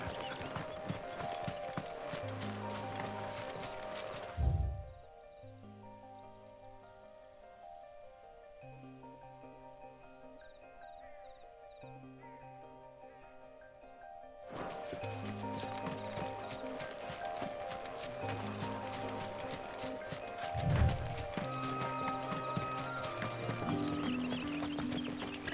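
Horse hooves while riding in the video game Final Fantasy 16, a faint, steady rhythmic clip-clop mixed with game music and ambience, dropping away midway before resuming.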